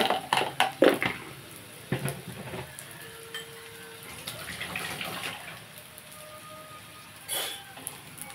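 Salted fish pieces frying in a pan with chili powder for a gongura dish, a steady close sizzle with a few sharp clinks of stirring near the start and a brief louder hiss late on.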